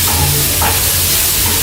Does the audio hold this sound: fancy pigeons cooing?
no